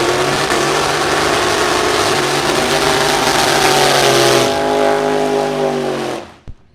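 A Willys pickup truck drag racer doing a burnout at a vintage drag race: a loud, sustained roaring engine with squealing tire noise that holds steady, then cuts off abruptly as the engine drops away at the end.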